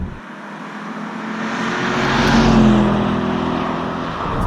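A 2018 Porsche Panamera Turbo S E-Hybrid accelerates hard in fifth gear, its engine note swelling steadily from a low hum to a loud, rising roar over several seconds with no talk.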